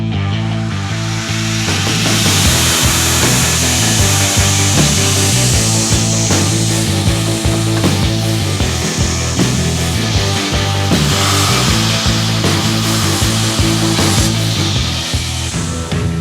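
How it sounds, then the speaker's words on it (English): A steel knife blank has its tapers ground freehand on a grinder, a loud, continuous rasping roar with a steady humming drone throughout. "I need to grind these tapers and this taper, and that's all done by eye"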